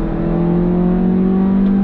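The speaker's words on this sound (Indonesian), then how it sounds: "itu tenaganya instan begitu digas" A 2022 Mazda 2 sedan accelerating in sport mode: a steady, loud engine drone heard from inside, with the tone rising slightly and holding strong throughout the short burst.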